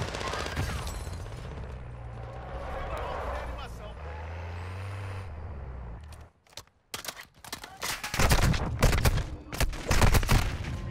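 Gunfire in the Call of Duty DMZ Warzone game, with loud bursts of shots cracking out in rapid clusters over the last few seconds after a stretch of engine rumble and talk.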